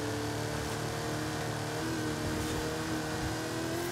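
A drag car engine in the racing game Forza Horizon 5 accelerates with a loud, continuous, buzzing drone whose pitch climbs gradually, close and steady for the whole stretch with no talking.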